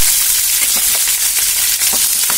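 Mustard seeds, curry leaves and green chilies fry in hot oil in a pan with a loud, constant sizzle broken by small crackles and pops throughout.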